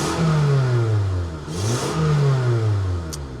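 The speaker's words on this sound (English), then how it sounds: "let me rev it up a little bit" A car engine with an exhaust rattle revs up twice, pitch rising and falling with each throttle blip, close and loud.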